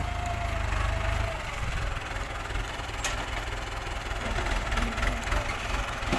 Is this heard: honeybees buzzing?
no